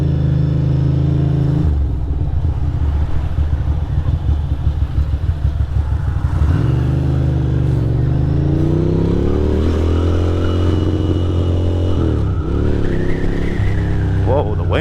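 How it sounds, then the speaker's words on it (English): A motorcycle is ridden outdoors while loud, steady rumbling wind buffets the microphone, with the engine droning and changing pitch underneath and a person talking briefly over it. "Whoa, the wind."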